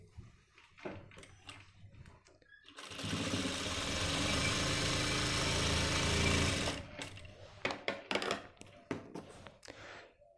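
A sewing machine stitches the front pocket of men's pants, running steadily and close for about four seconds, framed by short clicks and handling noises before and after.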